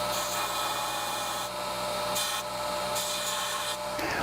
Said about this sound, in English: I use my homemade belt grinder to clean up that cut edge and put a slight bevel on the ends.